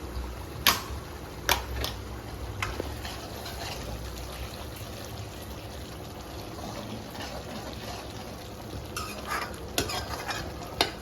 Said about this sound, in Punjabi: ਹੁਣ 2 ਮਿੰਟ ਪਕਾਵਾਂਗੇ ਅਸੀਂ ਤਾਂ ਜੋ ਟਮਾਟਰ ਦਾ ਕੱਚਾ ਪਣ ਖਤਮ ਹੋ ਜਾਵੇ